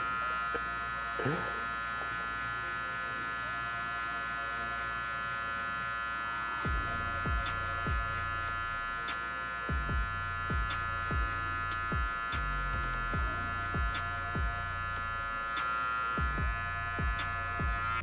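Electric hair clippers fitted with a 1 guard, lever fully open, buzz steadily while cutting a low taper fade, with repeated short strokes through the hair and a constant motor hum throughout.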